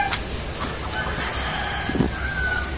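A single short cluck rings out from a chicken close by, set against a steady outdoor background hum and faint distant bird calls.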